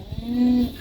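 A goat kid in a goat pen lets out one short, steady bleat close to the microphone, alone and brief.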